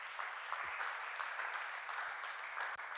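A church congregation claps and cheers together, a steady, fairly quiet wash of applause that holds evenly for a few seconds without a break.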